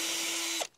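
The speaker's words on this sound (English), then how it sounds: "You just need to take a regular drill, put it in the hole." A regular power drill whines steadily and loudly at close range for under a second, then spins down and stops abruptly.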